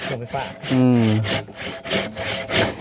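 Wood is cut with a hand saw in steady back-and-forth strokes, each a raspy rubbing pass, close and fairly loud, with a brief voice in the middle of the sawing.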